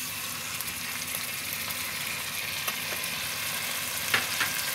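Beaten yogurt poured over chicken in a hot pan for chicken pulao gives a steady, even sizzle with occasional stirring scrapes and spoon clicks near the end, no voices.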